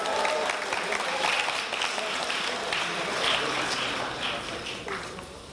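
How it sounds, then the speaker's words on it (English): An audience applauds a student presenter at a startup pitch competition finals, steady dense clapping filling the whole stretch with a faint crowd murmur underneath. "Let's give him a huge round of applause."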